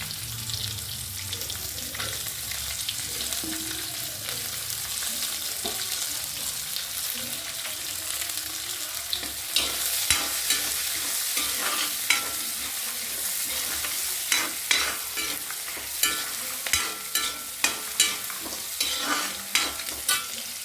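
Sliced onions frying in a pan, a steady close sizzle joined in the second half by repeated scraping and knocking of a spoon as they are stirred, with no talking.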